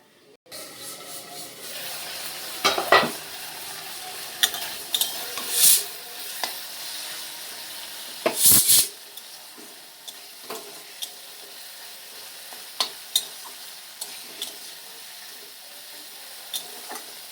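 Vegetable stems, already boiled soft, stirred gently in a pan with scraping and rubbing strokes over a steady background sizzle, with a few sharper clattering bursts early on and lighter intermittent scrapes later.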